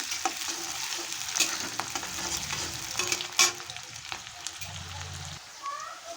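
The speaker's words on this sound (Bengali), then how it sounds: "তেল আমার গরম হয়ে গেছে আর আমি পেঁয়াজ আর কাঁচা লঙ্কা একসঙ্গে ভেজে নিচ্ছি চাউমিনের জন্য" Onions and green chillies sizzle in hot oil in a kadai for chowmein, a steady crackling fry broken by several clattering stirs and scrapes, fairly close with no talk.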